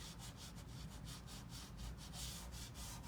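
Chalk pastel rubbed flat on its side across paper, a quiet continuous scratchy rubbing in rapid back-and-forth strokes, close and alone.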